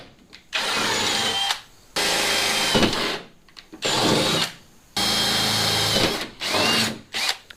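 A power drill bores holes for front fender armor on a Jeep XJ in four loud, close bursts, each lasting about a second, separated by short pauses.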